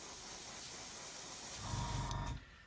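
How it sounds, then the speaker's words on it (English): Airbrush or spray can hissing paint onto the back edge of a 1/35 scale Meng Mk.A Whippet model tank, a steady close hiss that swells briefly and then cuts off. "What I'm going to do is just spray the back edge there."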